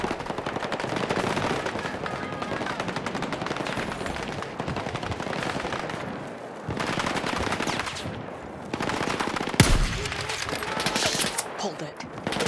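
Sustained machine-gun fire from an MG nest in the Battlefield 6 campaign, dense rapid bursts rattling continuously with scattered gunshots and explosions mixed in; voices are heard beneath the gunfire.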